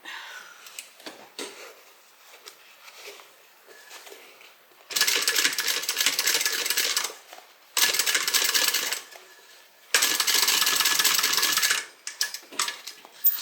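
A sewing machine stitching a small tote bag runs in three loud, steady bursts of a few seconds each, with quieter handling and fabric rustle between them and no speech.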